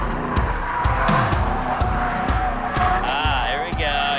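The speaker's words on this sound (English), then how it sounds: "Robert now had to prove his skills to the 4 pros on the drift course." A car drifts on a drift course, its engine revving hard while tires squeal and skid in repeated bursts, with voices talking over it.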